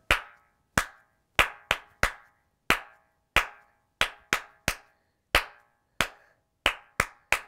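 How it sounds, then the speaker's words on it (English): Sharp single hand claps in a children's nursery rhyme song about a dog named Bingo, crisp and close, spaced in short rhythmic groups with a quick decay after each clap, no voice over them. "Five claps."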